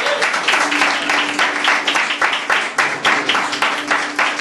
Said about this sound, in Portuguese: Aplauda o Senhor, por favor.